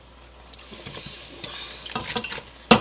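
Fruit, apples and strawberries for a cobbler, tipped from a bowl into a cooking pot: soft scattered taps and rustles of pieces settling, then a sudden louder clatter at the end, fairly close.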